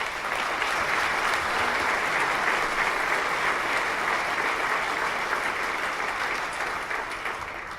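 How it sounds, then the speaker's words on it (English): Round of applause for Dr. Young after a talk at a tax advisory event: steady, dense clapping from a seated audience, even and continuous, fading slightly near the end with no talk over it. "Let's give Dr. Young a round of applause"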